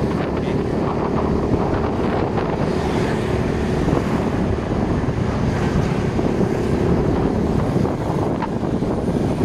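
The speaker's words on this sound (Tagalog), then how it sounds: "Tingnan nyo ang dagat guys." Sea waves and strong wind on the Bohol coast near Tagbilaran, a constant loud wash of surf mixed with buffeting wind noise on the microphone, close and unbroken.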